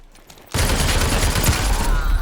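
Gunfire in a battle royale shooter: after half a second of quiet, a loud, dense burst of rapid shots crackles continuously to the end.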